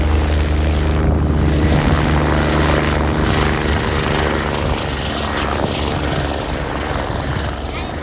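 A propeller aircraft at the Westmoreland Airshow at Arnold Palmer Airport switches to forward flight, giving a loud, steady engine drone with a deep throbbing hum that holds for the whole stretch.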